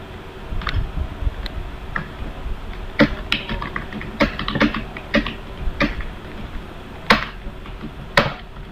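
Computer keyboard keys being tapped during a graphic design software session, irregular clusters of crisp clicks at close range with brief pauses between bursts, no voices.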